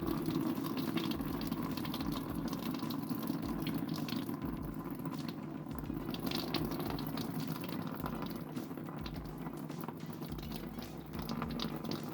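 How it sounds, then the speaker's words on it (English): Coolant drains out of a Citroën BX through the hole left by a removed radiator fan switch, a steady, continuous splashing gush of liquid that runs unbroken throughout with no voices. "remove the fan switch and drain there and splash coolant all over the place"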